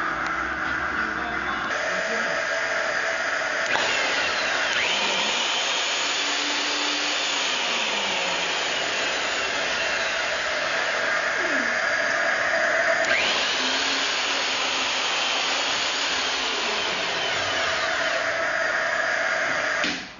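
Align hone machining the main bearing bores of a Subaru engine block, a steady mechanical whir and grinding hum that runs continuously and fairly loud, with slow strokes swelling and easing, and no talking.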